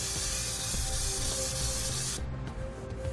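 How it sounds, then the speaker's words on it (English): Brake parts cleaner sprayed from an aerosol can onto a disc brake spindle, a loud continuous close hiss that cuts off sharply near the end, followed by faint rubbing. "We'll use some brake parts cleaner"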